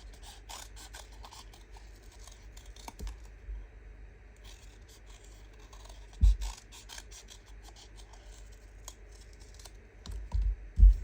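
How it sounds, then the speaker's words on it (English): Scissors snipping lace trim for a junk journal, a few crisp close cuts landing mostly near the middle and end, over quiet rustling of fabric and paper on a tabletop. "You can cut on the ends like that, the same as the other ones, like that, or we can cut the long side."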